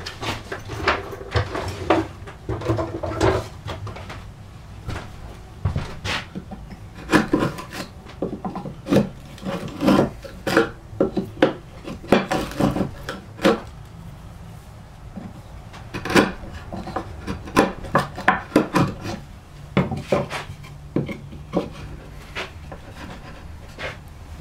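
A chisel pares a wooden tenon's inside wall, producing close, repeated rasping scrapes and rubs in irregular bursts, with occasional knocks of wood being handled throughout; no talk.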